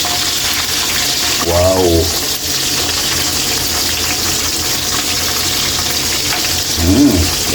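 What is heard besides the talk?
frying milkfish (bangus) sizzling in pan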